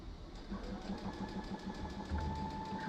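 A sewing machine restitches a misaligned rag quilt seam, running in a steady, close mechanical hum with a rapid regular needle pulse, fairly quiet and without talk.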